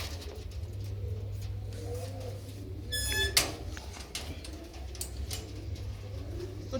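Soft pigeon cooing in a quiet room with a low steady hum underneath, plus a brief clatter partway through.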